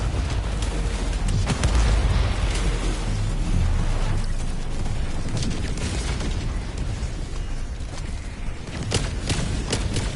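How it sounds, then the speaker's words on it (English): Orbital barrage in Helldivers 2 pounding the battlefield: a sustained, dense roll of booming explosions and rumbling blasts that stays loud for the whole stretch, with sharper bursts cracking through near the start and end. "Barrage incoming. Stand clear."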